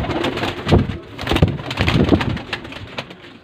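Several breeder pigeons, spotted and other pet varieties kept for sale in Faisalabad, coo nearby in a cluster of soft, throaty, repeated rolling calls, loud and close with no talking.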